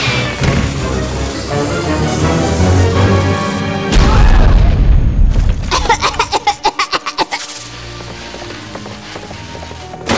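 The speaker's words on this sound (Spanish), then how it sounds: "¿Por qué unos fuegos artificiales sin probar que le compré a Trixie en un callejón a medianoche serían inseguros?" Cartoon fireworks go off in loud booming bursts followed by a rapid string of crackling pops, with music playing beneath the explosions.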